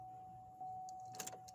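A 1970s-era Chevrolet Impala's fuel pump hums as the ignition key is turned, a faint steady whine under quiet surroundings, followed by a few sharp metallic clicks and rattles near the end.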